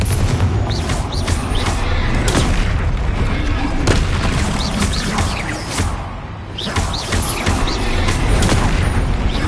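Confringo blasting spell explosions in a Harry Potter video game, repeated booming blasts and sharp cracks every second or two, loud and up close, with a voice shouting spell names over them.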